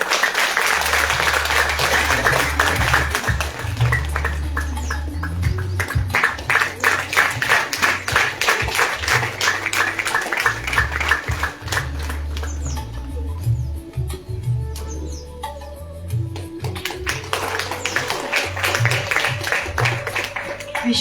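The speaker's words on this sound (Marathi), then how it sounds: "एकदा जोरदार टाळ्या" A stage audience breaks into loud, sustained applause, dense clapping running throughout with a tuneful backing layer beneath it.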